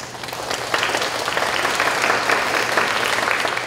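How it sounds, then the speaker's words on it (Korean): Audience applause welcoming a speaker onto the stage at a Seoul AI lecture event, a steady, moderately loud burst of clapping that swells slightly and holds. "그럼 큰 박수로 모두 궤도님을 모셔보겠습니다"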